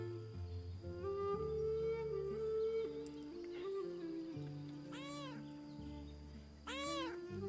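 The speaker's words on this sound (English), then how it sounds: "Oh wait, I can pet the cat." A cat meows twice in the medieval adventure video game Pentiment, each call a rising-falling whine set over a soft, sustained musical score, the second call following about two seconds after the first.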